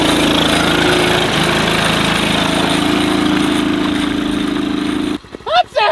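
Tractor engine running steadily in mud on a farm before field spraying, a loud continuous rumble that cuts off near the end, followed by brief talk.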